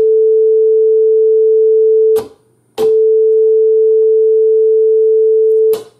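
A steady 440 Hz test tone plays from the right output channel of an amplifier under repair, loud and pure, broken by a short gap and a few sharp clicks as connections are switched.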